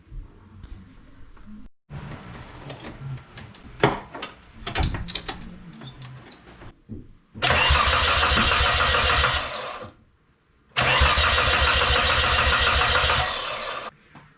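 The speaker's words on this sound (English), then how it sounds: "just crank it for 20 or 30 seconds and to see if there's actually any oil coming out of it." Nissan Stagea RB25DET engine cranking on the starter in two long, loud bursts, with clicks and workshop clatter before them and a short silent pause between the cranks.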